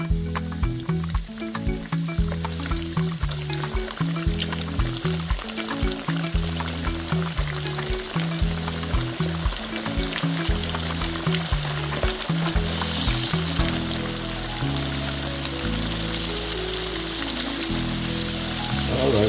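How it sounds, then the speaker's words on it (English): Steady crackling sizzle of fish frying in hot oil, continuous and fairly close, with rhythmic background music underneath. "we're gonna start frying."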